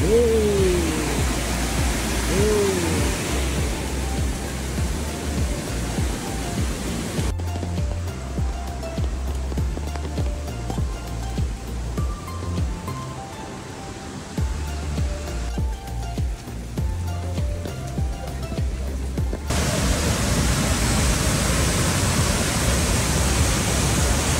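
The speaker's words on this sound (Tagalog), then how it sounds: "Shifen Waterfall." Shifen Waterfall in Taiwan pours in a steady, broad rushing roar that holds throughout, dipping somewhat quieter through the middle stretch before returning to full strength.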